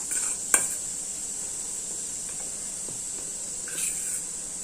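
Onion with salt and red chili powder is stirred in a pan with little oil: a steady, bright sizzling hiss with occasional light spoon taps and scrapes close by.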